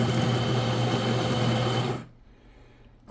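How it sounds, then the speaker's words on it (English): A Kenmore KKSACM-B super automatic coffee machine grinds coffee beans for an espresso, a loud, steady whirring drone lasting about two seconds before it abruptly cuts off into near quiet. "Right now it's grinding the coffee beans."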